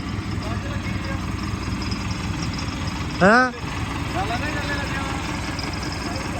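A tractor engine idles and runs steadily close by on a farm. Its low, continuous rumble carries throughout, with a single short spoken word breaking in midway.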